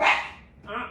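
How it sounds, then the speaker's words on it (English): A dog gives a short, sharp bark up close, followed by a quieter trailing sound, all within about a second. "does the most obnoxious barks when he's really pissed off"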